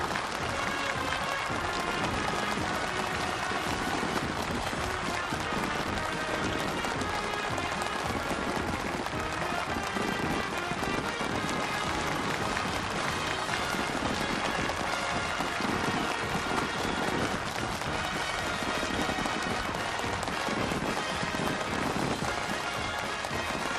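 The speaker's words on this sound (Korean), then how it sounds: "전체 참가자들이 터치어올리는 열렬한 박수갈채가 준공식장을 진감하는 속에 새 일터의 주인들이 준공태표를 끊었습니다" Enthusiastic applause from a large crowd at the completion ceremony of a local industry factory in Jangphung County, North Korea: a dense, steady roar of clapping that runs continuously and evenly throughout.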